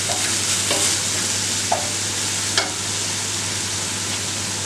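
Crushed shallots sauté in a hot pan for a spicy beef curry, giving a steady close sizzle with a couple of sharp clinks of a spoon stirring against the pan.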